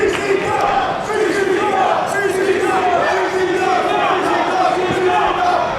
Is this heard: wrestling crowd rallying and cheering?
yes